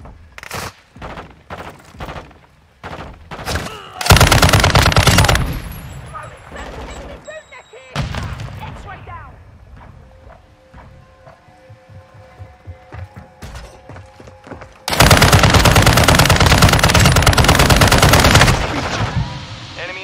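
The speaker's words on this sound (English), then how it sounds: "Taking effective fire!" Heavy bursts of automatic gunfire in a Call of Duty multiplayer match crack loudly in two long stretches, separated by scattered single shots, mechanical clicks and quieter battlefield noise.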